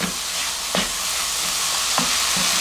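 Curry powder is stirred into a frying pan of bean sprouts over steady sizzling, with two or three distinct scraping strokes of the utensil standing out above the frying hiss.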